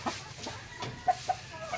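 Gamecocks kept for cockfighting on a rural province farm cluck in short, brief bursts a little way off, two sharper clucks standing out over a steady outdoor background.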